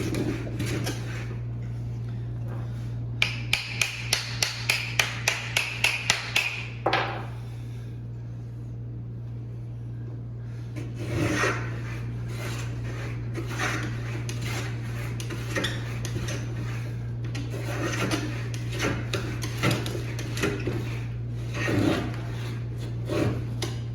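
A Stanley 45 combination plane cuts wood with a quick run of sharp rhythmic clicks, followed by repeated rasping strokes and occasional knocks over a constant low hum.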